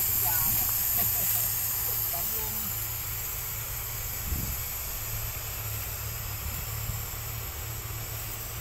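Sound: air compressor pump of sugarcane harvester hissing

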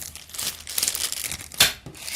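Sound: plastic bag of screws and cable ties being handled

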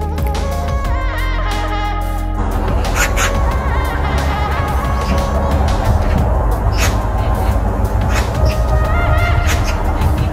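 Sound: ducks in a video

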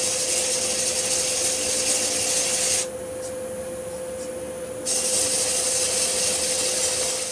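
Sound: sanding a small yew hollow form

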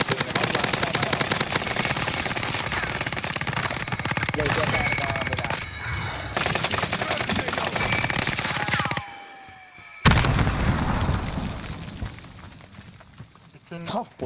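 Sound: heavy artillery and gunfire in Warzone video game

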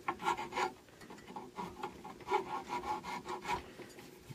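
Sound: sanding carved wood by hand with fine sandpaper

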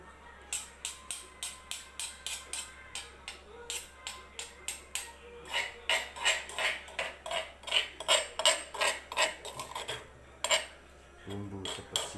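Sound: spoon and cutlery clinking

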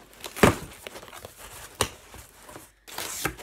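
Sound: crumpling packing paper while unpacking

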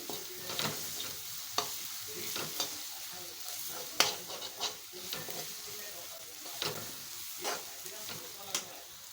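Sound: onion and garlic frying in a pan

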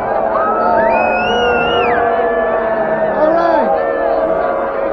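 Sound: crowd cheering at Zozobra 2024 event in Santa Fe

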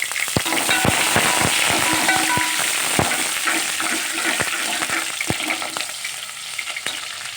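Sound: onion frying in hot oil

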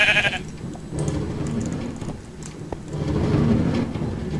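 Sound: sheep bleating in Minecraft video game

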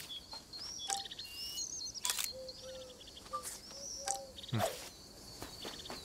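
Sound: bird chirping in video game Alba A Wildlife Adventure

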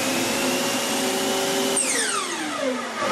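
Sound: shop vacuum running after saw cut to clear dust

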